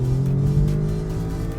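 APR Stage 1 tuned Audi S3 compact car accelerating hard, a loud, steady engine drone with a rising rev tone under a full pull, close and continuous, no talking.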